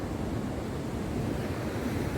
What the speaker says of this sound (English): Checking out the waves.